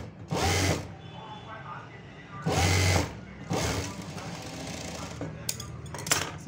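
Sewing machine stitching a blouse side seam in a home tailoring setting, running in three loud bursts of rapid mechanical whirring with quieter handling and rustling between.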